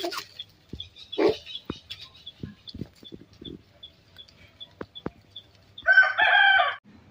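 Native country chickens give scattered soft clucks and scratchy taps, then a rooster lets out one loud, close crow near the end.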